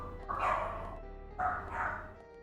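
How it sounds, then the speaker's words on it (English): A dog barks in a room during a Deadly Premonition playthrough, with two separate bursts of bow-wow barking about a second apart, fairly close and clear against a low background hum. "Sorry about the barking."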